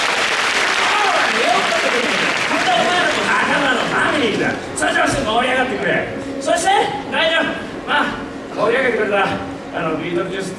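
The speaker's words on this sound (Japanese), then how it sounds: "あいつの拍手だ。" Applause and cheering from a lively audience at a comedy or variety stage event in Japan, dense and continuous at first, then breaking into rising bursts of clapping and shouts, with voices calling over it.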